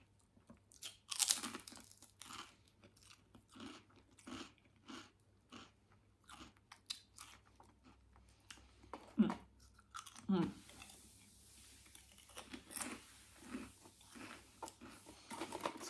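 Close crunchy chewing and biting of chips, sharp crisp bites followed by rhythmic munching, with a person talking quietly between mouthfuls.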